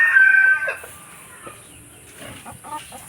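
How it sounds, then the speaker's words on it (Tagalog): A large chicken in a cage house gives a loud, close crowing call, followed by softer scattered clucks and rustling. "pinakamalaking manok."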